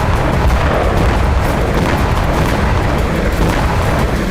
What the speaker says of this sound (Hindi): घातक मिसाइलों से हमला, ताबड़तोड़ रॉकेट से प्रहार और आत्मघाती ड्रोन से विस्फोट।